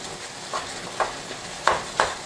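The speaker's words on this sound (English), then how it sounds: "every time you stir up the meat to break up the little chunks" Ground meat frying in a pan for shepherd's pie, stirred with a few distinct scraping strokes over a steady soft sizzle, close and moderately loud, without speech.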